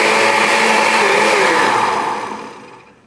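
An electric hand mixer whirring through pancake batter in a home kitchen, a loud, steady high whine that fades out over the final second as the mixer is switched off.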